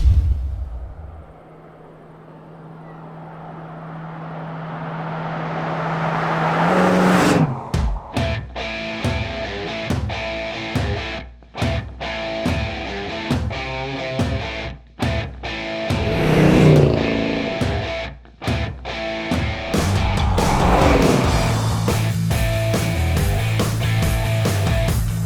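A 440-powered 1970 Plymouth Superbird replica idles and then barks into loud, rough revs on a test drive, with throttle blips and roaring surges.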